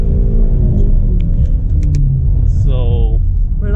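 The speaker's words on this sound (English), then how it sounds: "Let's take it for a drive." A 2018 Ford Mustang EcoBoost driving in sport mode on snowy roads gives a loud, steady engine rumble heard from inside the cabin, with a voice briefly speaking near the end.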